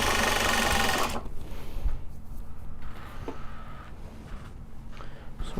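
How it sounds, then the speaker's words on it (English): A sewing machine winds a bobbin in a loud, steady mechanical whir for about a second, then stops, leaving quieter workshop clatter and faint motor hum behind. "start the next bobbin winding here."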